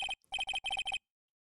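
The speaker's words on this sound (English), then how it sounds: "Hey, Nick, your cell phone's ringing." A cell phone rings in the Ace Attorney video game, a short electronic ringtone of rapid doubled beeps repeating in quick bursts, then stopping to silence.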